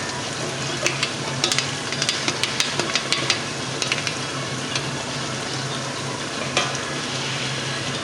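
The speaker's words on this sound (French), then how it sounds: "Donc je tamise comme ça et puis il n'y aura pas de grumeaux." Flour being sifted through a sieve for fufu in a home kitchen, a steady grainy hiss with scattered small taps and knocks of the sieve, close and fairly loud, with no voices.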